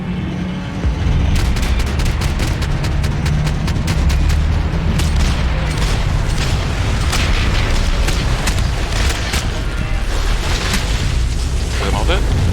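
Loud, nonstop gunfire and booming blasts from a Max Payne 3 shootout against enemies, forming a dense, steady barrage for the whole stretch, with voices mixed into the din.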